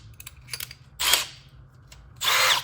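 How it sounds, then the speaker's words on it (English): Variable-speed power drill drives screws into the door jamb of a vintage trailer, with short stuttering pulses followed by two longer whirring runs, close and loud with no talk. "I'll just change this right now to my other drill."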